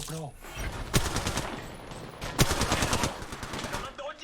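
Rapid automatic gunfire rattles in a ranked online shooter game: two sharp bursts, each trailing into fast repeated shots, loud and close.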